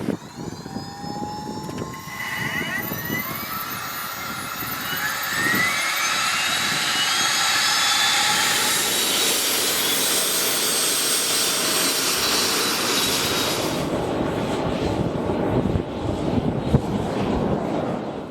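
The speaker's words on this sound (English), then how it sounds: "The SubSonex accelerates smoothly to its rotation speed of 90 miles per hour, and the rate of acceleration increases once the airplane is off the ground" SubSonex JSX-2 single-seat sport jet accelerating down the runway on its takeoff roll, a loud steady turbine roar with rising whine that builds and holds through the run, no talk.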